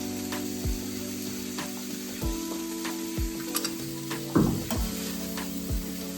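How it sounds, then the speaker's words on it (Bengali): Rice frying with julienned ginger in a pan, a steady close sizzle broken by a few sharp utensil clicks and a brief louder scrape partway through, with no voices. "এবার চালটাকে আমি একটু ভেজে নিচ্ছি। তার মধ্যে দিয়ে দিচ্ছি জুলিয়ন করে কেটে রাখা আদা কুচি"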